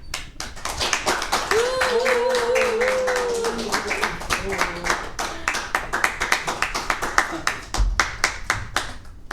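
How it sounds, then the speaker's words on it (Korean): An auditorium audience breaks into loud, sustained applause to welcome a guest speaker at a lecture, dense clapping that thins toward scattered claps, with a brief voice tone rising above it. "뜨거운 박수로 환영해 주시기 바랍니다"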